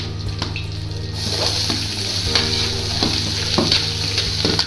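Green chilies and curry leaves sauté in hot oil in a pan, a bright steady sizzle with repeated spoon scrapes and stirs, close-up and fairly loud with no voices.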